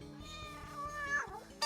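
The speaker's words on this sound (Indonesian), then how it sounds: "Itu kucing." A cat meows once, a rising-then-falling call that stands out near the end over a steady background of harmonic music or hum, fairly close and moderately loud.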